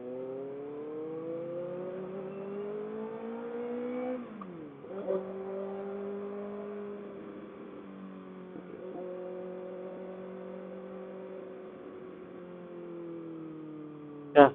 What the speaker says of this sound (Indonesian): Mesin Fitwin itu goyang dung dung dung dung dung dung dung dung dung dung dung dung